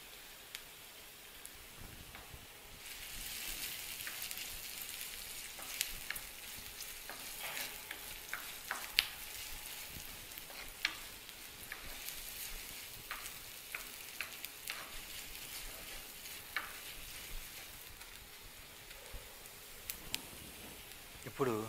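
Chopped ginger pieces dropped into a hot pan while making upma with groundnuts, giving a steady hissing sizzle with scattered crackles and occasional stirring clicks, fairly close and constant throughout.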